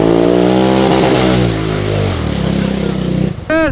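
A Honda car fitted with a tuned RJWC exhaust revs loudly and close by, the engine note rising and falling through several throttle blips before a short sharp rev at the end.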